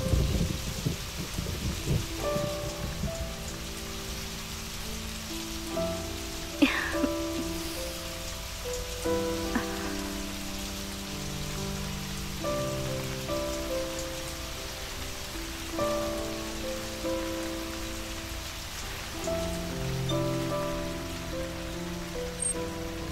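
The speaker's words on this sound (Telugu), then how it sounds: "హే వర్షం" Heavy rain with thunder pours in a steady, dense hiss, with a single sharp crack and a few distant rumbles rolling beneath sustained tonal music throughout.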